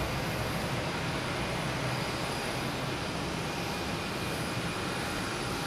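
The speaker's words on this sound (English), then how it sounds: "We had a JetBlue coming in from Albany," JetBlue jet arriving from Albany at Boston Logan, heard as a constant broadband engine rumble at moderate distance, unbroken and level from start to finish.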